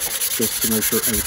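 Hand sanding of wood with fine 280-grit sandpaper for a final smoothing pass, a steady run of rhythmic rubbing strokes at close range, roughly five back-and-forth passes, with a brief spoken phrase over it.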